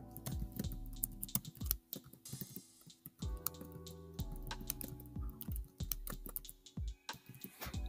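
A project name typed on a Chromebook keyboard, close, crisp key taps in quick uneven bursts with short gaps, quiet and without talk.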